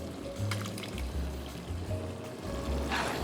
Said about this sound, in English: now we're gonna add our canned tomatoes, juice and all